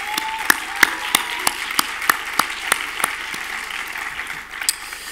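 An audience at the FIFF 2024 film festival awards ceremony in Fribourg applauds in a slow, rhythmic clap, a dozen or so distinct loud claps in sequence over a thinner background of scattered clapping.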